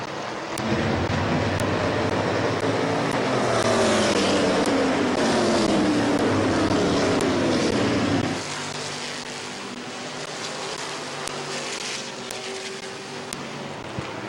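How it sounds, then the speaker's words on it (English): Race cars speeding around Midvale Speedway, a loud continuous engine roar sweeping past with rising and falling pitch, then easing to a lower distant drone. "Coming in on lap number 4 this time, Teddy Oliver, Lucas Ripley, and Phil Cox is"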